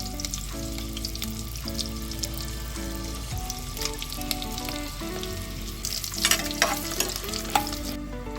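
Green chillies and biryani spices sizzle steadily in hot oil, with occasional stirring scrapes and a brighter burst of crackling near the end, close and continuous with no talk.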